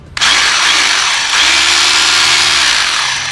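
An INGCO rotary hammer drill starts abruptly and runs loud and close, a steady high motor whine that dips briefly in pitch and then holds before easing off.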